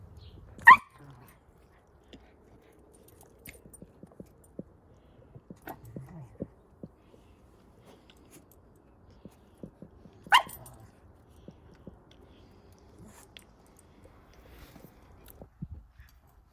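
A dog gives a few sharp, isolated barks spaced several seconds apart, close by in a quiet room, with soft rustles and small yips in between.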